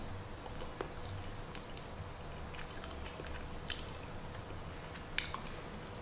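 Someone chews a mouthful of sweet rice cooked in Coca-Cola, with soft, moist, close-up squishing and faint clicks continuing over a hissy background.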